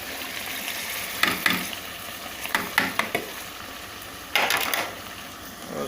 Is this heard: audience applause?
no